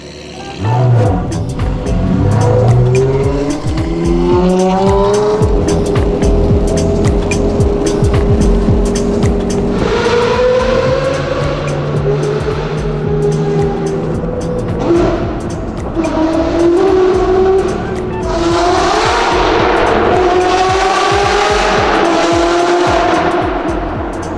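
A Ferrari rolls up and drives off on a winter road trip, its engine rising and falling through several loud revs and gear changes, close and sustained, with brief tire noise and no talking.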